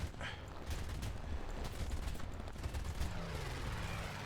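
Rapid aircraft machine-gun fire from a P-26 fighter in War Thunder rattles in sustained dense bursts over the drone of the plane's engine, fairly quiet overall.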